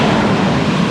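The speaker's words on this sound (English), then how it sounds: "We got waves." Ocean waves at Sand Beach in Acadia National Park form a steady, broadband wash of surf close by, continuous and fairly loud, with some wind noise on the microphone and no voices.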